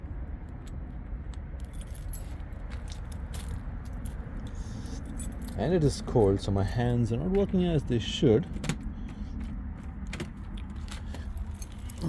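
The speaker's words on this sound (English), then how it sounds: "there are just too many keys" A bunch of keys jangles up close during a walkaround of a Cobra Mini 2 camper in the cold, with a dense burst of metallic clinking midway while someone talks.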